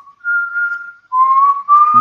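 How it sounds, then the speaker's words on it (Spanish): Someone whistles a simple rising tune close to an open microphone during an online class, two sustained phrases separated by a short pause, loud and alone with no talk. "Alguien está silbando, no sé quién es."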